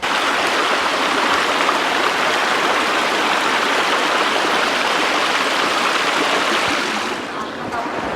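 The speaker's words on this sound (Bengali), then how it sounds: "এটা হচ্ছে পানির সাউন্ড" Rushing water of a stream in Bandarban roars loudly and continuously, a broad steady wash that eases slightly near the end.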